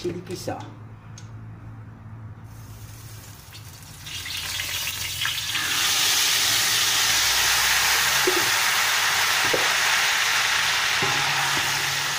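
Blended chili paste hits a hot pan for fish sambal, and a quiet background swells into a loud, sustained frying sizzle that holds steady, with a few faint clinks.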